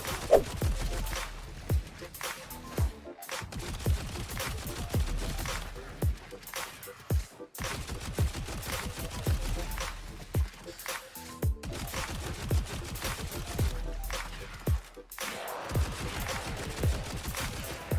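A StuG fires bursts in a video game, with rapid repeated gunfire in rhythmic volleys separated by brief pauses, loud and close throughout.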